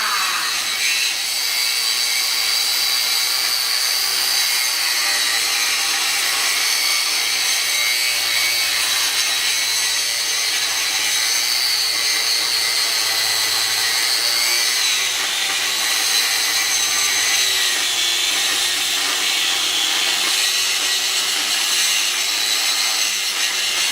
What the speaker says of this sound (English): Cutting metal with fire!